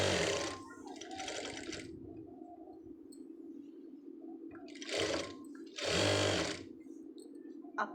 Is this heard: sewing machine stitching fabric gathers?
yes